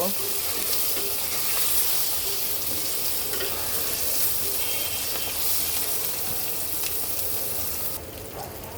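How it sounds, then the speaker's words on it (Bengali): Parboiled potatoes with salt and green chillies frying lightly in a pan, a loud, dense, continuous sizzle close up that dips slightly near the end. "এইবার আমি একটু হালকা ভেজে নেব"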